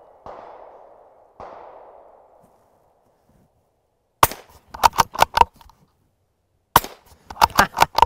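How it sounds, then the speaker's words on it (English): Suppressed gunshots from a small handgun silencer fire outdoors in two quick clusters of sharp cracks, each burst about five or six shots, after two softer dull thumps earlier on. "when I dry fired just there, one of those gunshots went off"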